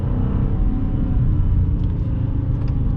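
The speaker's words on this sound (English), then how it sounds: "downshift a little bit too low there" A 2020 Dodge Challenger Scat Pack Widebody's engine rumbles low and steady during a downshift on a rainy road, heavy and continuous inside the cabin with no talk over it.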